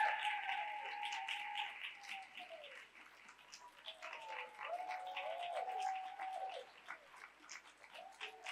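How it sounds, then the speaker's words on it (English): A theater audience applauds performers taking a final bow at a Moth storytelling show, fairly quiet scattered clapping heard alongside voices calling out. "Keep the applause going."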